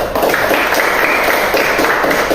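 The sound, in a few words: classroom applause for a student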